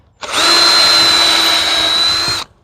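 A power drill bores a pilot hole while a deer fence is being built, one loud close burst of high, steady motor whine lasting about two seconds that starts and stops sharply.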